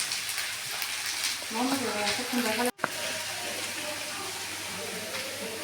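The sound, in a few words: frying and stirring spices in a pan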